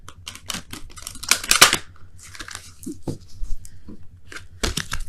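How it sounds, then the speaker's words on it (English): Quick papery riffles and flicks of tarot cards being shuffled, crisp and close, in short irregular bursts. "let me go ahead and quickly shuffle these"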